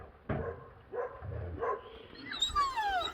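Female dog giving a few short, close barks, then high thin whimpers and whines rising and falling at the end.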